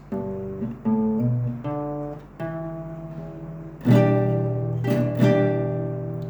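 Chords strummed on an acoustic guitar, a few slow strokes ringing out one after another, then several sharper, brighter strums near the end.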